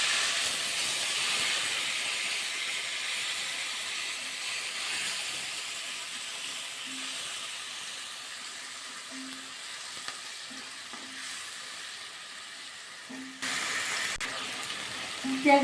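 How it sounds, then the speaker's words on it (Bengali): Onions fry in hot oil in a pan with cinnamon, a bay leaf and four dried red chillies, giving a loud, continuous close sizzle and hiss with occasional stirring scrapes; no talking. "পেঁয়াজগুলো একটু ভাজা করে দেবো, বাদামি কালার করে দেবো পেঁয়াজগুলো।"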